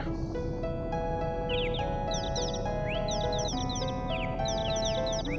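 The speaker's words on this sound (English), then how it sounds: "You can hear these birds if you come up here." Birds chirp in an overworld scene of the Final Fantasy VII video game, bright rising tweets repeating in quick bursts over a steady bed of sustained music.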